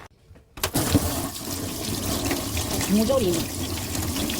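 Liquid is poured into a pot of stored radish, a steady splashing pour close by that starts abruptly after silence, with a voice speaking over it.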